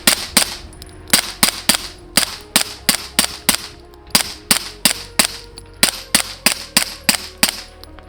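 Suppressed gunfire empties a full magazine through a SilencerCo Omega 9K suppressor, about twenty sharp, evenly spaced cracks in a fast steady rhythm, loud and close, with no talk.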